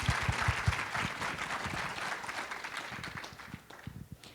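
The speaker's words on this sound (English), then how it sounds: "please give her a great round of applause" An audience at a new-media forum introduction applauds steadily, a dense wash of clapping with a few louder close claps at the start, tapering slightly toward the end.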